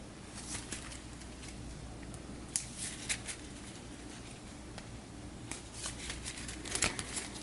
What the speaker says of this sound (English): We'll shuffle all of these back in